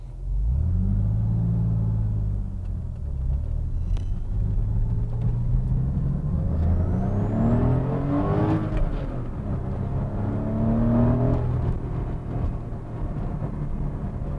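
A 2001 Porsche 911 (996) Carrera 4 with its rear engine drives past loud and close, a steady low rumble whose pitch climbs and falls through several gear changes as it accelerates, with no voices over it.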